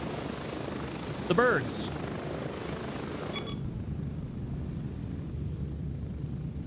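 Helicopter in the shooter game Gray Zone Warfare, a steady rotor and engine drone filling the whole stretch, with brief voice chatter and a short tonal blip early on.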